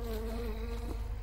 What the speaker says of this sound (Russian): Кто там? Мухи. Мухи.